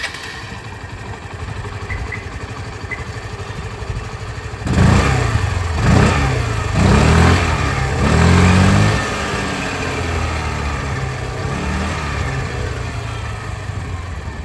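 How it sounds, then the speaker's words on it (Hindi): A Hero Destini 125 scooter idles near the exhaust, then is revved several times in short bursts before settling back to a steady idle; no talking. "एक बार डेस्टिनी की जो एग्जॉस्ट साउंड है वो भी आप लोग सुन लीजिए"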